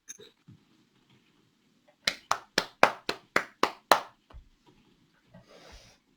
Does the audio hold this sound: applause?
yes